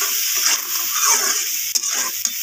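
Ginger, garlic and green chili paste fries in a pan with a constant close, bright sizzle while a spoon stirs through it, scraping briefly a couple of times.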